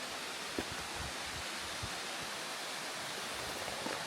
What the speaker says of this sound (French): je vais vous faire découvrir en direct la cascade